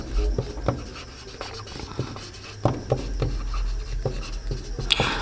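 Pen strokes scratch across paper during a maths lesson on sets, close and fairly loud, a rapid run of short irregular scrapes and taps over low background noise.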